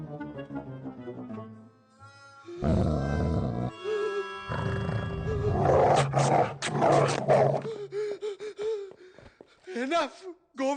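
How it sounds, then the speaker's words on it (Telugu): A dog in a Telugu film comedy scene gives loud, rough bursts of barking and growling in a few clusters, mixed with gasping voices and music. "అదే కుక్క. ఓరి దీని, ఇది మళ్ళీ వచ్చిందా?"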